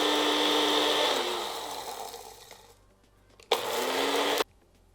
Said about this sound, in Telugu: సో నేను ఇప్పుడు ఈ అటుకుల్ని తీసుకొని బ్లెండర్లో వేసుకుంటున్నానండి.